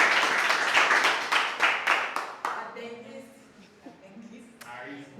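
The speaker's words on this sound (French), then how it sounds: "On applaudit pour elle." A small group applauds at a public speaking training session, a burst of brisk hand claps that thins out and fades into scattered claps, with voices talking underneath.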